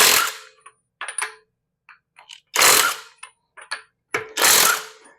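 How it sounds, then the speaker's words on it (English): A budget cordless impact wrench works on a car lug nut in a garage, firing three loud rattling hammer bursts separated by quieter clicks and clunks. "a lot of times your lug nuts will simply go flying all over the place when you're using these impact guns."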